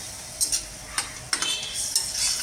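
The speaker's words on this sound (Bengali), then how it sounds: "একটু মিক্স করে নিচ্ছি" Palak paneer being stirred in a pan with a little added water, with a few distinct scrapes and clinks of a utensil against the metal over a low sizzle, close and without talk.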